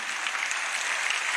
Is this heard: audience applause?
yes